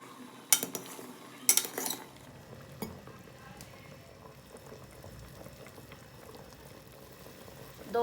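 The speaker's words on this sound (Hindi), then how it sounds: "3 गिलास पानी डाल लेंगे। एक किलो बीफ का गोश्त। चूल्हे को ऑन कर लेंगे" Beef bubbles in water in a pot on the stove, a low continuous boil heard close, with a few sharp clinks of a utensil against the pot early on.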